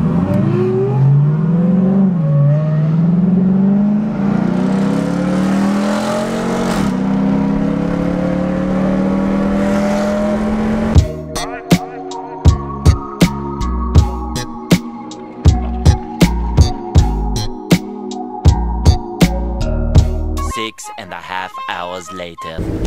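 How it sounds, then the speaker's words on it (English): Ferrari and Lamborghini supercars race on a freeway, one engine's rising revving roar building then fading, followed by a burst of sharp clicking and popping sounds, with people talking over it. "They're going to race. Here it goes. Ferrari versus Lamborghini."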